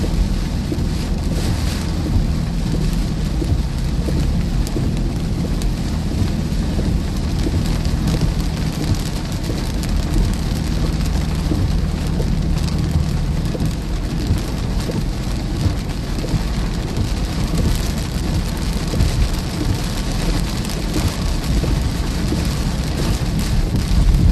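Steady moderate rain pours down during a Southern Iowa thunderstorm amid flooding, a dense continuous hiss with low rumbling underneath, holding evenly at close range throughout with no voices.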